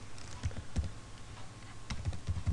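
Keys tapped on a computer keyboard in short irregular bursts, close and fairly quiet, with brief pauses between clusters of keystrokes and no voices.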